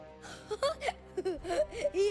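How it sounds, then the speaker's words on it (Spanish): A character in the Final Fantasy 16 video game cries, with shaky, whimpering sobs and wavering moans in short bursts, close and fairly clear with no other sound over it. "Look, he's crying."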